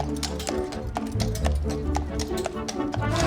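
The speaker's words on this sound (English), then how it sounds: "Horse and carriage" Carriage horse hooves clip-clopping in a quick, regular rhythm on a hard surface, loud and nearby.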